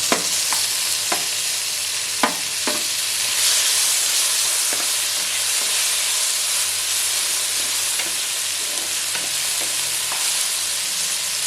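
Onions sautéing in a pan hiss and sizzle steadily and loudly, with occasional sharp clicks of a utensil stirring against the pan.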